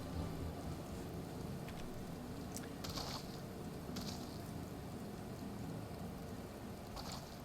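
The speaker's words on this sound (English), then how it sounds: "sorry, it's raining" Rain in Final Fantasy XIV: a steady, even hiss of falling rain with a few brief brighter splashes, continuous and moderately loud, no talking.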